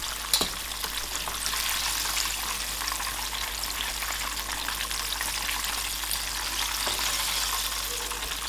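Chicken thighs deep-fry in hot oil at home, giving a steady, dense sizzle that holds evenly from start to end without a break, fairly close and alone with no voices.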